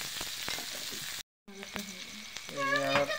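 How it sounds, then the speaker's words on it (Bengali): Onions and green chillies frying in a pan in a village kitchen make a steady close sizzle. A short gap of silence breaks it, then the sizzle returns with some tonal sounds near the end. "এই যে পেঁয়াজ মরিচ দেওয়া হইলো"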